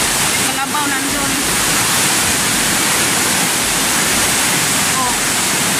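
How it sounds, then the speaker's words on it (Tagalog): Strong floodwater of the Piñan river rushing hard, a loud and unbroken roar that fills the clip from start to finish, with faint voices speaking underneath. "Sobrang lakas ng tubig"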